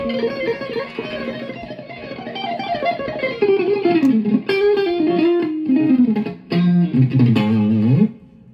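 A distorted electric guitar through a BOSS GT-1000 plays a continuous melodic lead line, saturated and buzzy with effects, ending abruptly near the end.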